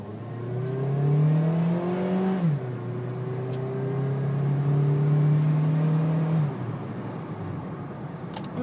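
2012 Honda Civic EX-L accelerating hard after a turn, the engine droning up through the revs with a clear upshift midway, heard from inside the car, loud and steady.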